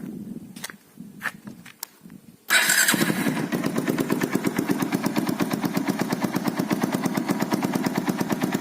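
A few clicks and cranking sounds, then a Bajaj Pulsar 180cc motorcycle engine fires up and settles into a rapid, loud, popping idle close by.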